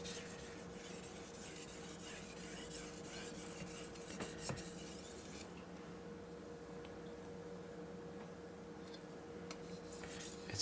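A knife's steel blade rubbed back and forth on a Morihei 4000 whetstone gives a steady, soft, close gritty scraping with a few light taps, the strokes quieter in the second half.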